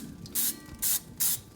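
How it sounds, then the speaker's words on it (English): Three short, loud hissing spray bursts coat a barbecue grill grate, evenly spaced with brief gaps between them. Each burst is close and sharp, and no one talks. "I'm gonna spray it because I think it helps with the cleanup"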